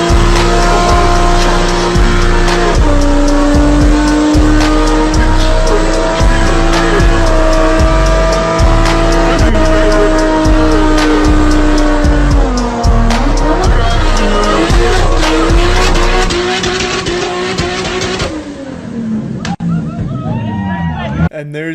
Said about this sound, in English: this car is only used for gender reveal burnouts in a backyard